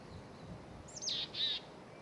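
A foraging covey of California quail gives soft calls from the undergrowth, two short chirping notes close together over quiet outdoor background.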